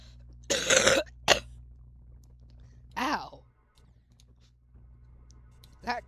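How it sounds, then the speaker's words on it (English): A person coughs in one harsh, loud burst, then gives a short second hack. A strained vocal sound follows a moment later, all against a quiet indoor hum. "cough really hurt."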